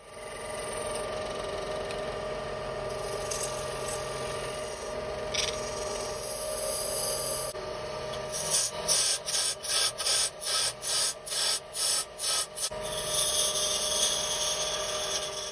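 A wood lathe hums steadily while a tool scrapes and rasps against a spinning horn tip, then a run of rhythmic, repeated sanding strokes.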